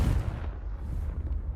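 A Confringo blasting spell in Hogwarts Legacy, heard as a dense, low rumbling boom that stays loud and rolling across the whole short moment.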